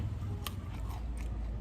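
Crunchy bites into raw chili and garlic while eating a raw beef salad, a few short crisp crunches at close range over a steady low background hum.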